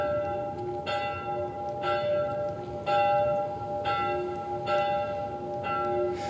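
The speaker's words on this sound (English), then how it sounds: "I feel like that bell is a bad idea, because isn't that bringing all the infected?" Church bell tolling in The Last of Us Part 1 video game, six evenly spaced loud strikes about one second apart, each ringing on with a sustained metallic tone, with no voices.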